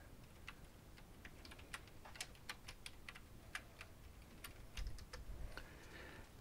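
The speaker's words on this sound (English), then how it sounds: "We're going to type in" Typing on a Mac computer keyboard, a run of light irregular clicks at moderate distance, quiet and alone with a faint background hiss and no talking.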